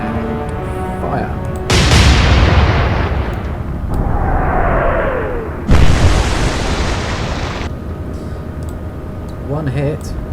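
Naval guns fire salvos in the Atlantic Fleet video game, heavy booming blasts that come a few seconds apart, each rolling off afterward, with a descending whistle-like tone between them.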